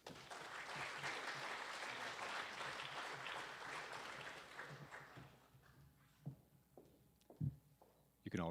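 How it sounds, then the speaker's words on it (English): A crowd at a career center completion ceremony claps for the culinary program in a dense, sustained burst that fades after about five seconds. A few isolated thumps and footsteps follow in a quieter room. "A round of applause for the culinary program."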